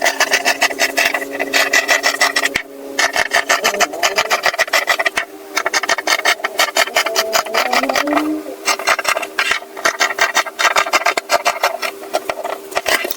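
Shears cut through fabric for collar pattern pieces, producing close, rapid, continuous rhythmic snipping and rasping crunches that repeat steadily, with only brief pauses between runs of cuts.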